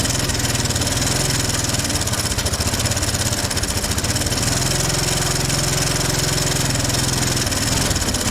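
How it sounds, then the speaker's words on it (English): Engine of an abandoned Honda ATC 200es Big Red three-wheeler struggling to idle, a loud, close, continuous rough putter with uneven low pulsing throughout and no voices. "It's not wanting to run. Excuse me, it's not wanting to idle."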